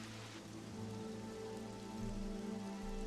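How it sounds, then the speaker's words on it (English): Rain falls in the video game Xenoblade Chronicles 3, a soft steady patter on surfaces over low, sustained ambient music tones. "It is very peaceful with the rain, I will say that."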